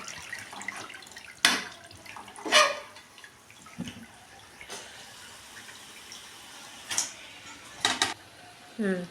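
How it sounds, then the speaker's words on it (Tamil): Water trickles and splashes in short bursts as it drains off chicken, with quiet pauses between the pours. "பார்த்து பொறுமையாக தண்ணி வடிகட்டி போடுங்க."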